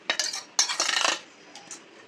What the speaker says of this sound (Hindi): इसको हम एक बार अच्छे से फेंटेंगे